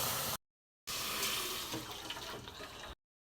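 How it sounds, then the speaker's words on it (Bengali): Roasted moong dal rinsed under running tap water in a kitchen: a steady close rush of water with faint splashing, cut off by a brief silence early on, no talking. "ডালটা ভাজা হয়ে গেছে, এবার জল দিয়ে ধুয়ে নেবো"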